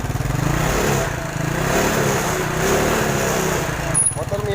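A Yamaha Mio scooter engine runs steadily in a workshop, a loud continuous buzzing idle with slight fluctuations throughout, close by and alone without talk.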